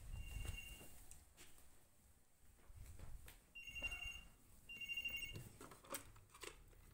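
A phone rings indoors in short trilling electronic bursts that repeat faintly at a distance over low background rumble and small knocks.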